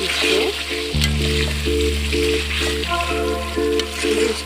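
Mutton curry masala fries in oil with a constant, fairly loud sizzle and crackle beneath a tonal background melody.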